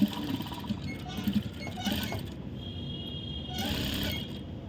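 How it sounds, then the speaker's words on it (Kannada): A domestic sewing machine stitches folded blouse fabric at close range. Its steady, whirring run rises into short louder bursts as the stitching starts and stops, and no one speaks. "ಫೋಲ್ಡ್ ಮಾಡಿಕೊಂಡು ಈಗ ಇದನ್ನ ಸ್ಟಿಚ್ ಮಾಡ್ತಾಯಿದ್ದೀನಿ"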